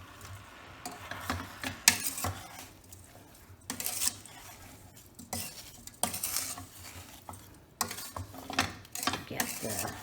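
A spoon stirs berry pie filling with sugar and lemon juice in a pot on the stove, giving irregular close scraping strokes and soft wet clatter with brief pauses between bursts.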